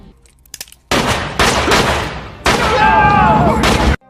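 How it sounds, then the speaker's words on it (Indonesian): Pistol shots in a dramatic film scene set in a prison cell: after a quiet lead-in, several loud close blasts follow in quick succession, each with a booming reverberant tail. "Dengan pistol di tangannya, Percy menembak mati Wild Bill tanpa ragu."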